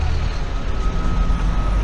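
Busy street traffic with buses and cars, a loud, steady rumble of engines and road noise that fills the whole stretch without a break.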